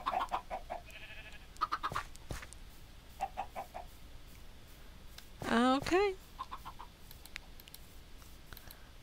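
Chickens cluck on a farm in the video game New World, with a few short clucks early on and a louder burst of squawking midway, under sparse talk.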